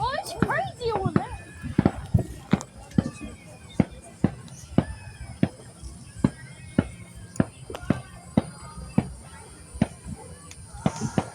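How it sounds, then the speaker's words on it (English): Distant fireworks pop and crack in a steady series of sharp bangs during a Florida fireworks show, with people talking nearby throughout. "You can start to see some of the fireworks."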